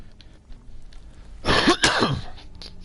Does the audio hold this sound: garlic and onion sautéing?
no